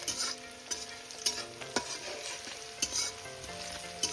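Steady sizzle of garlic frying in hot oil, with a few sharp scrapes and taps of a spoon stirring in the pan.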